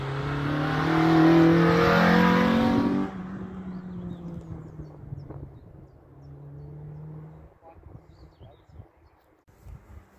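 A loud Citroen Saxo VTS with a Honda S2000 engine roars as it accelerates close by at the Curborough sprint track, then fades into quieter rumbling and faint background noise.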